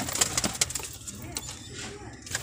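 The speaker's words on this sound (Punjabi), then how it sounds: "ਚਿੱਟਾ ਕਬੂਤਰ" A white pigeon coos in a loft among other birds, soft repeated low calls close by, with faint wing flutters and a voice talking over them.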